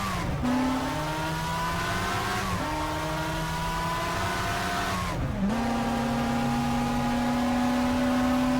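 A fragile, unreliable racing car engine from around the 1990 San Marino Grand Prix era, held at gentle low revs on a formation lap: a steady loud drone with two brief dips and re-pickups in pitch, alone without talk.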